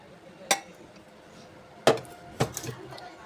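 Two mangoes going into a blender jar while making mango lassi: three sharp, close knocks spaced apart, each a hard clunk against the jar, with quiet room tone between and no talking.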